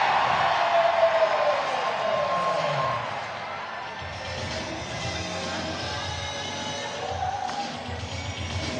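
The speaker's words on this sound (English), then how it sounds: "Quite the ovation for Vincent Chapman" A full-capacity baseball crowd at a Savannah Bananas game in Columbus, Ohio roars in a sustained ovation, loudest at first and then settling into a steady cheering wash with scattered whoops.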